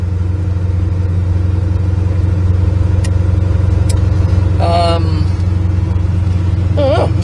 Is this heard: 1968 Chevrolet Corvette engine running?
yes